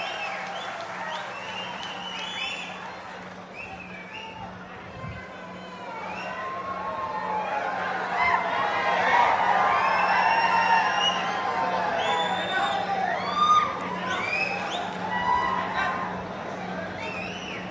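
An audience at a political rally welcomes guests with applause that swells midway into loud crowd noise, shrill whistles and cheering. A voice talks over the start.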